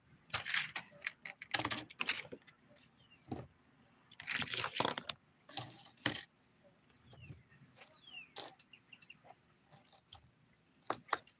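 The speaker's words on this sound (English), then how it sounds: "Sorry, I was chewing." Someone chews crunchy bacon- and cheddar-flavored snacks close to the mic, making irregular bursts of crisp biting and crunching separated by quiet gaps.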